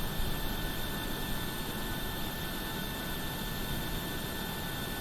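Jet engines of a PMDG 737-800 in WestJet livery in Microsoft Flight Simulator give a steady, even roar with a constant whine, loud and unbroken, with no voices.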